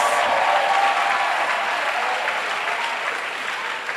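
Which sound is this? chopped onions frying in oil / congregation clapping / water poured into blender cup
congregation clapping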